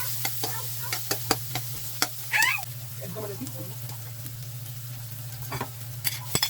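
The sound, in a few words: onion and garlic sautéing in pan for adobo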